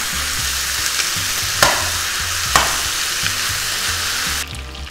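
Poultry pieces browning in a pan as they begin to stick: a loud, continuous sizzle with two sharp scraping stirs partway through, and the frying cuts off abruptly near the end.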